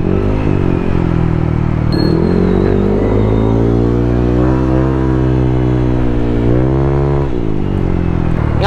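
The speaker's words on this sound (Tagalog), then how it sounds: "bago na yung tambutso natin, yung pipe natin. So hindi na tayo naka M3 shark tip." Pearl white Honda Civic with a new aftermarket exhaust pipe, replacing an M3 shark tip, revving close by: a loud, steady engine drone rises and falls through several rev swells and drops for about nine seconds.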